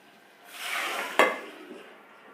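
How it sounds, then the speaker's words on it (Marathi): Cooked moong dal is tipped into a hot tomato tempering in a pot, bringing a rising sizzle and a sharp metallic clank of utensil on pot, then fading quickly. "आपली फोडणी मस्त तयार झाली आहे डाळ आपण त्यावर टाकून घेऊया"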